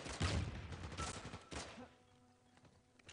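Type 95 rifle gunfire in the multiplayer video game Uncharted 4, with a quick burst of rapid shots at the start and another short burst midway, then quieter game ambience.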